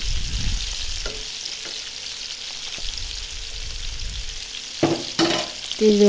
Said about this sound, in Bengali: মাছটা আমি একটু ধীরে সুস্থে মানে যেহেতু এটা ভাজা করবো রান্না করবো না একটু ভালো করে ভাজতে হবে